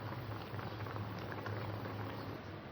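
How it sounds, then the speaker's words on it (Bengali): Lentil dal with wild hog plums boils in a pot, giving a continuous soft bubbling and popping at close range with no talk. "আবারও ডালটাকে একটু ফুটিয়ে নেব"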